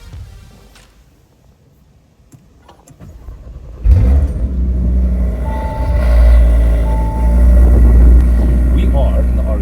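An Audi RS3 sits quiet at first, then launches hard from a standstill. A sudden loud engine surge follows, and the revving stays strong and sustained as the car pulls away. A voice can be heard during the launch.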